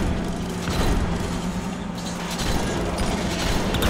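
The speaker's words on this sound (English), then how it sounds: "Of course, dynamite. Lots of explosions make me feel better." Dynamite explosions and gunfire bursts in the PS4 game Uncharted 2: Among Thieves form a dense, loud, continuous battle din with repeated booms and crackling blasts.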